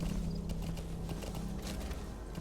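Horse hooves clip-clop steadily in the game Metal Gear Solid V, a quick regular rhythm of moderately near hoofbeats over a constant ambient background.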